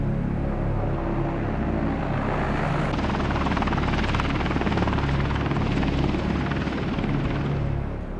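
An AH-64 Apache attack helicopter flies close and loud, its dense rotor chop and turbine roar holding steady throughout with no other sounds.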